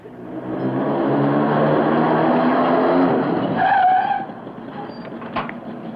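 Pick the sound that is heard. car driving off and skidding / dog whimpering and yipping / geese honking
car driving off and skidding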